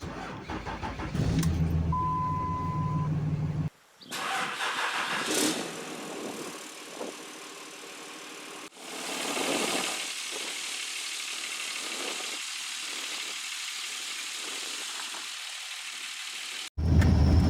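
A 2004 Dodge Cummins diesel truck engine cranks and fires up, settling into a steady, loud idle with a few brief breaks in the sound.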